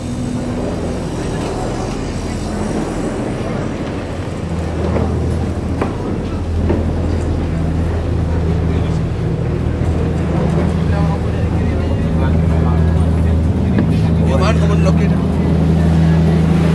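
A fast boat's engine drones loud and steady near Mount Agung, with heavy wind rumbling across the microphone and a voice talking over it throughout.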